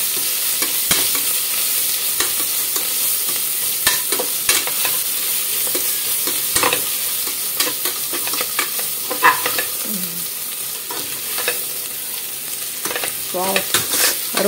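Masala for chicken pulao frying in a pan, with a continuous hiss of sizzling oil under repeated spoon scrapes and clinks as it is stirred, close and steady.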